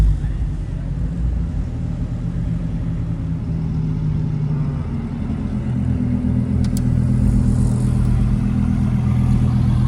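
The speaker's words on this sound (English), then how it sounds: "Got a GT2 RS pulling up, and also an STO." A Porsche GT2 RS and a Lamborghini STO pull up with a loud, deep, continuous engine rumble and steady low drone close by, and the tone rises slightly partway through as the revs climb.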